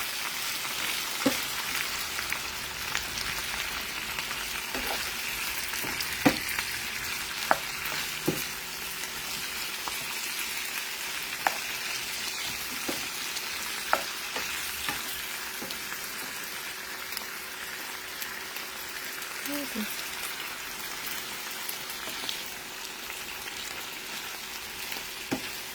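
Onions frying in butter give a steady, soft sizzle with occasional small pops and crackles, continuous and fairly quiet throughout with no talking.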